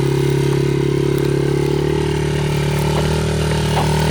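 A child's dirt bike engine runs steadily at close range, a loud continuous idle-like drone with a strong low hum and no talking over it.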